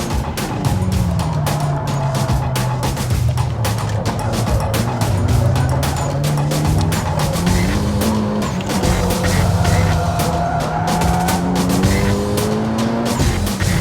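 A Toyota GR Yaris is driven flat out on a fast lap, its engine roaring loud and close with rising and falling revs through gear changes, accompanied by tire squeal and skidding throughout.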